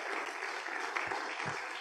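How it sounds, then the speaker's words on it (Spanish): Audience at an international sports congress in Mexico applauding warmly, a steady crowd of clapping that holds at an even level from start to finish. "le damos un aplauso muy cariñoso"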